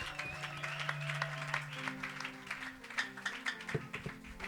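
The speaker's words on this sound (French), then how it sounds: "Acclamez le Seigneur très fort." Church congregation applauding and cheering the Lord, a steady patter of clapping with scattered sharper claps, some voices and sustained tones underneath.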